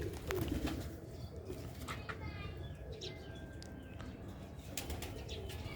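Black-faced Sialkoti pigeons coo softly and flap their wings, giving fluttering bursts over a low, steady background. The sound is faint, with occasional thin chirps mixed in.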